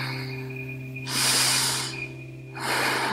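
Slow, deep exhales during a gentle beginner morning yoga side stretch: two long, airy breaths close to the mic, separated by a short pause, over a faint background hum.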